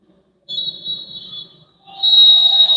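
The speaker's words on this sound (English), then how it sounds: "there is the whistle from Alex King that brings the first half to an end" A referee's whistle ends the first half of a football match between Vietnam and China in an Asian U23 semifinal, sounding as two shrill blasts, the second longer and louder, over quiet background.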